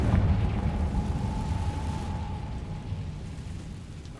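Confringo blasting spell going off in the Hogwarts Legacy video game: a loud, rumbling explosive blast that is already at full force and fades slowly over about four seconds, with a faint steady tone ringing inside it.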